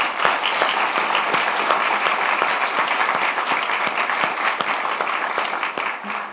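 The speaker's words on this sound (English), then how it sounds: "So join me in a round of applause for thanking our three panelists once again." Audience applause for three panelists at the close of a science panel discussion on black holes, neutrinos and life in the galaxy: dense, steady clapping from a crowd, continuous throughout with no voices over it.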